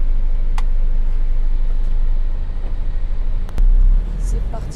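A new Mercedes Actros truck pulls away with a low, steady engine rumble and road noise, the drone dipping briefly and then swelling again, with a couple of sharp clicks mixed in.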